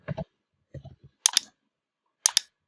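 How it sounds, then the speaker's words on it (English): Clicky keystrokes on a computer keyboard while entering data in an Excel spreadsheet, a few scattered sharp taps in small bursts separated by pauses, close and fairly quiet. "If I start typing"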